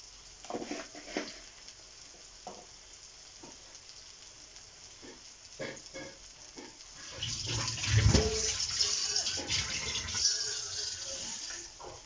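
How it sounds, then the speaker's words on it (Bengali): Ground coriander and cumin cooking in a pan with a splash of water, starting with scattered soft crackles and then swelling into a louder, steady bubbling sizzle, close and with no talking. "সামান্য একটু জল দিয়ে কষিয়ে নেব।"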